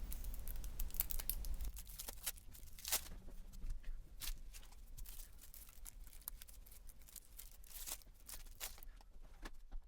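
Plastic wrapping crinkles and tears as Play Nine card decks are unwrapped, with sharp rustles and snips scattered through ten seconds at close range, no talking.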